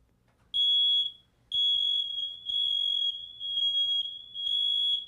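A household smoke alarm blares after its test button is pressed with a broom handle: five loud, piercing electronic beeps in a steady pulsing pattern, close and alone.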